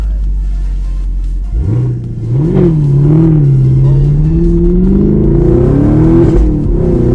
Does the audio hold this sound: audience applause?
no